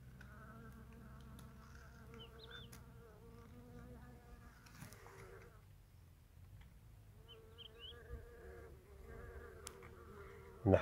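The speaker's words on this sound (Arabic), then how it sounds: "النحل سبحان الله العظيم كيشم ريحتي كيهرب" Honeybees buzz around a hive at the start of the new season, a soft, steady droning of many insects close by with occasional louder passes, with no talking.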